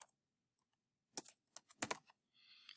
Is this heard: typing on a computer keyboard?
yes